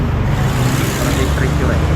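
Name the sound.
loud road traffic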